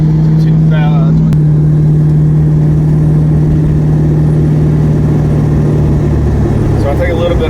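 A car cruises in overdrive on the interstate at about 1,700 to 2,000 RPM, its engine and exhaust holding a constant low drone with a strong steady tone beneath road noise, someone talking over it.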